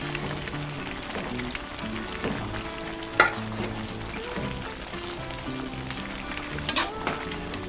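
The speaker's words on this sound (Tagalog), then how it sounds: "Ngayon po ay hahaluin lang natin siya." Beef tongue adobo with sliced ginger stirred in a pan, a steady close sizzle of frying under scraping spoon strokes and occasional louder clacks against the pan, with no talking.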